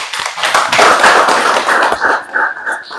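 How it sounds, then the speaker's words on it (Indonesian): A classroom of students clapping hands together, a dense, uneven burst of many claps that swells in the middle and trails off toward the end, fairly close and loud with no talk. "tepuk tangan dulu"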